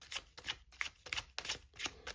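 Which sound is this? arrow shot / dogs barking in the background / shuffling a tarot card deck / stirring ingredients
shuffling a tarot card deck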